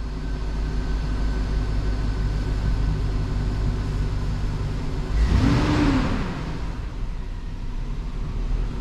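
A GMC Yukon SUV with a reduced engine power fault idles with a steady low rumble, briefly swelling mid-way as if lightly revved or passing a louder moment, heard up close with no talk.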